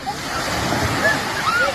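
Sea surf washing at Dadar beach near Chaityabhoomi in Mumbai, a continuous broadband rush of waves with faint children's voices and squeals at play in the background.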